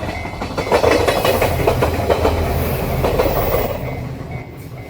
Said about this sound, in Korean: 토리 바로 앞을 열차가 통과하는 진풍경을 감상할 수